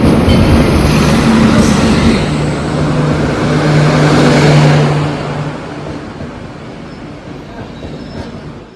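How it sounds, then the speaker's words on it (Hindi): A train pulls into a station with a loud, steady rolling rumble and low humming tones that ease off after about five seconds, leaving quieter station background noise. "फाइनली गाइस पांडा का जो ट्रेन है वो आ चुकी है।"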